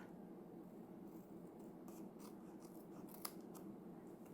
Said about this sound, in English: it's a little long on this side, so I'll trim that off.